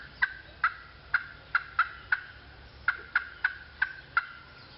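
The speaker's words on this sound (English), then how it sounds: "There's a turkey up there." A wild turkey tom sounds off outdoors during a youth field day, a rhythmic series of about a dozen sharp, evenly spaced calls, each fading quickly, somewhat distant over quiet background.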